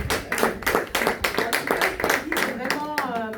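A church audience claps in acclaim of the Lord during a worship gathering, a rhythmic run of sharp hand claps with voices speaking and calling out over them.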